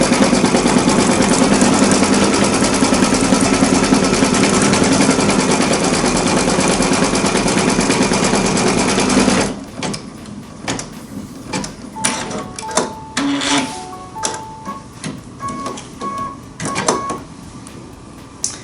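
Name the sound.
embroidery machine stitching a bean stitch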